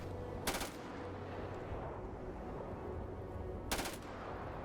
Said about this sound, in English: These weapons sound really weak.